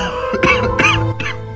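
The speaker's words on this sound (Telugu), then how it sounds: "ఎక్కువ దగ్గు వస్తుంది తల్లి" An elderly man coughs in three harsh, throaty bursts, close and moderately loud, with short gaps between them and no talk.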